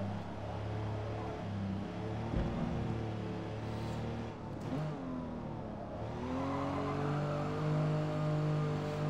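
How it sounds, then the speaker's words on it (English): Aston Martin DB4 GT from the 1960s lapping the Nürburgring in a racing game, its engine revving up and down through gear changes, close and sustained, moderately loud. "The Aston Martin DB4 GT, which is already going a bit too quick for my liking."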